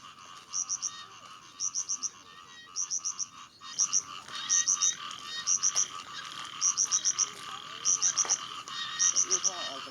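Asian bullfrogs croak in a park during breeding season, a steady chorus of short repeated calls in quick bursts, fairly close and loud over a dense background of other frog calls.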